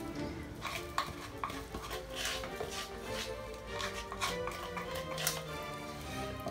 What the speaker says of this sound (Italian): adesso sciolgo la soda nel infuso di camomilla fatto raffreddare